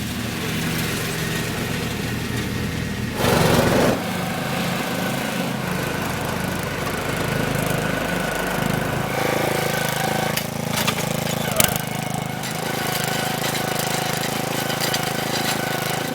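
A lawn mower engine drones steadily throughout, loud and close, with a brief louder burst near the start and a few clanks later on.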